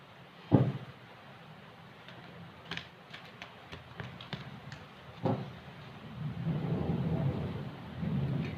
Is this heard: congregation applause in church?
no